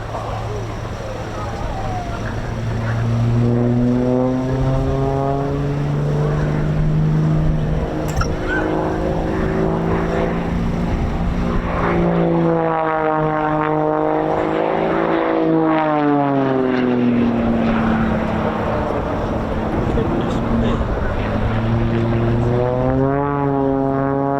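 A red-and-white Extra aerobatic propeller plane passes at the RAF Cosford air show, its engine note loud and steady, rising and falling in pitch with a Doppler sweep as it goes by, with crowd ambience beneath.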